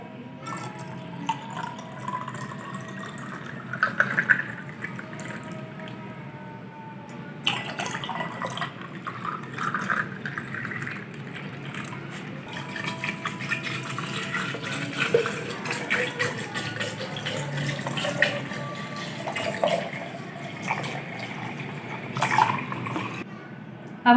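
Water poured from a jug into a glass of tamarind and plum sharbat, faint splashing and trickling in short bursts, with light clinks and soft drips between pours.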